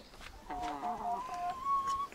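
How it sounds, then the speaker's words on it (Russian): Hens cluck in short, repeated tonal calls close by, a soft rising cackle running for a couple of seconds with no talking. "Курочки мои,"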